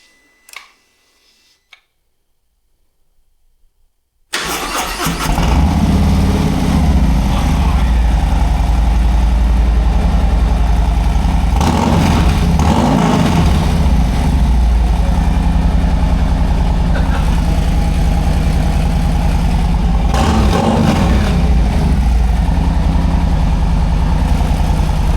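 A 2023 Harley-Davidson Road Glide ST fitted with a Bassani Road Rage III exhaust cranks over after a near-silent start, then settles into a loud, deep, loping idle that rumbles close by for the rest of the time.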